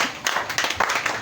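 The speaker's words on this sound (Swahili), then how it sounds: "Pia Yesu makofi mazuri." A church congregation claps during a Swahili-language morning service, a short burst of scattered hand claps with a few sharper peaks, close and moderately loud.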